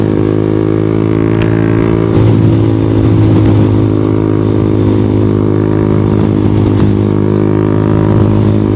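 A Honda Winner X 150 motorcycle engine with dual overhead cams runs loud and close with a steady, busy rumble, occasionally swelling as it revs to high RPM throughout.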